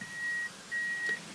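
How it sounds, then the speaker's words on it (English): Two steady electronic beeps from a car on a mountain drive in Japan, each held about half a second with a short gap, fairly faint over low road rumble and no talk. "Sorry about the beeping."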